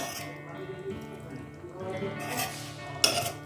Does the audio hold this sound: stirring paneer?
yes